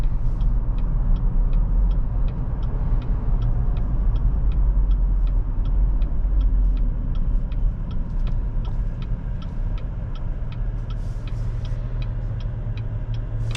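A 2022 Cadillac XT5 with the 3.6 AWD powertrain accelerates hard on a hot, humid quarter-mile trap run, its engine a steady, loud, sustained rumble that holds throughout. A faint regular ticking sits above the drone.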